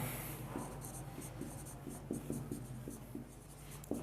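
Marker or chalk strokes on a classroom board during a thermodynamics lecture, a steady run of short scratchy taps and squeaks, moderately close over a low room hum, with no talking.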